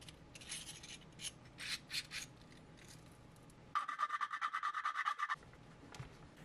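A MetMo multi-drive tool scrapes and rasps supports off 3D-printed parts for a water gun, starting with scattered scratches and then a quick rhythmic run of rubbing strokes, close and fairly soft.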